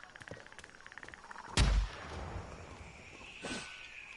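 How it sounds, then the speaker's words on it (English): A flashbang bursts close by with a loud, deep blast in the Predator: Hunting Grounds video game, followed by a fainter gunshot-like crack a couple of seconds later, with voices faintly present beforehand. "Flashbang out."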